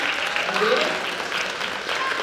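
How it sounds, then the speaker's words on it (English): Students at a school holiday assembly give a round of applause, steady dense clapping that fills the hall for the whole stretch, with a voice faintly audible underneath. "how about we give each other another round of applause for transitioning"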